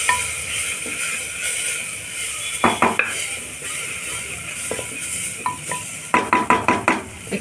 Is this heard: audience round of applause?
no